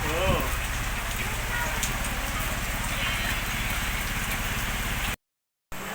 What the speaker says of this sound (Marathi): खूप पाऊस चालू झालाय।